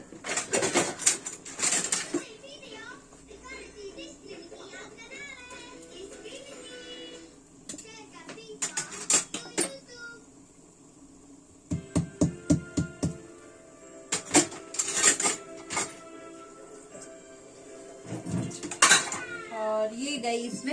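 Ginger is pounded in a home kitchen for ginger tea: sharp clustered knocks come in short bursts, with quieter kitchen clatter and someone talking between them.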